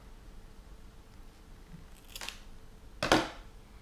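Scissors snip off the end of a cable tie holding tinsel on a fishing rig hook, two crisp close cuts, the second louder, over a quiet background.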